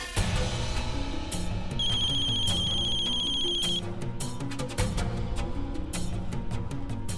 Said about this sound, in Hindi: सिस्टी का फोन है, मुझसे बतिया के आते हैं।